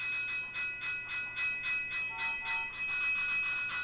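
A train passes in Trainz Simulator 12 with a BNSF autorack consist: steady rhythmic rail clatter from wheels on track joints, fairly faint and even, with a faint high tone running throughout.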